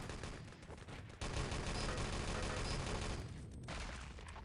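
Bot gunfire in a first-person shooter game rings out as a loud, dense, continuous rattle of shots, briefly dropping off twice before resuming at full strength, with no voices.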